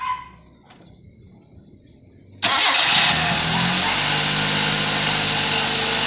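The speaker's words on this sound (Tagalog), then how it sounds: "Sige, try mo nga yung paandarin. Start." A Nissan GA16 engine, being refreshed after a pull-down and previously hard to start and misfiring, cranks briefly, then abruptly catches and settles into a loud, steady idle nearby.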